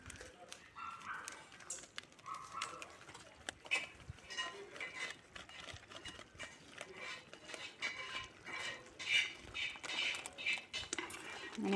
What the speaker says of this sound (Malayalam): അങ്ങനെ ബീഫ് മസാല ചേർത്ത ശേഷം നന്നായിട്ട് ഒന്നുകൂടി നമ്മൾ വഴറ്റുന്നുണ്ട്.